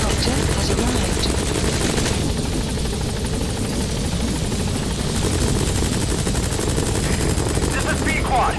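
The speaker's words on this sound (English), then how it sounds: "Support helicopter has arrived." Support helicopter arriving in the game Metal Gear Solid 5, a loud continuous rotor thump with rapid gunfire bursts mixed in, while a radio voice speaks over it.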